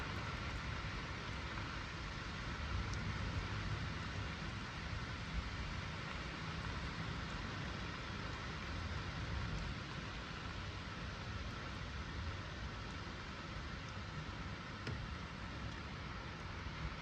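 Rain from a lightning storm in New Jersey makes a steady, even hiss with a broad wash of noise and no distinct thunder or voices, continuous and fairly faint.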